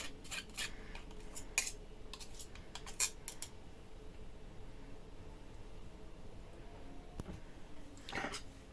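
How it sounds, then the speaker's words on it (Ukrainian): Chopped garlic is scraped with a knife into a salad bowl while making a crab salad: a few short, crisp scraping clicks separated by quiet pauses. "Подріблений чесничок відправляємо також в салатник."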